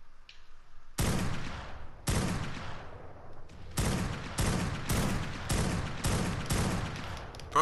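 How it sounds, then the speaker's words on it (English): Loud gunshots ring out in a player-versus-player shooter match, first a few spaced single shots, then a steady string of evenly timed blasts about every half second, each with a short echoing tail. "I'm gonna shoot him off now"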